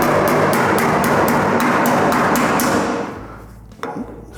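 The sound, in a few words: hammer knocking metal body panel on Ford Falcon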